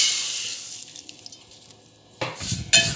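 Water being drained off half-cooked rice for zarda, pouring and splashing into a sink in two short bursts near the end after a quieter stretch of faint trickling.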